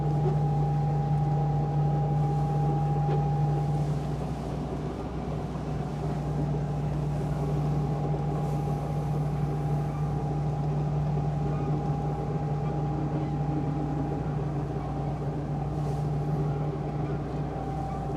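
A Candela electric hydrofoiling boat glides over water, giving a steady, even electric motor hum with a sustained tonal whine and a soft wash of wind and water beneath.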